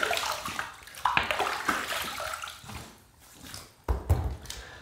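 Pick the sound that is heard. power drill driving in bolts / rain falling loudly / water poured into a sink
water poured into a sink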